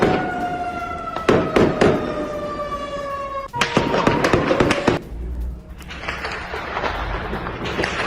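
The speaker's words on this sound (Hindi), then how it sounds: "गोलीबारी की गूंज दूर दूर तक सुनाई दे रही है" Distant gunfire cracks out in scattered sharp reports over city noise in Jenin during attacks, with a wailing siren tone in the background and no talk.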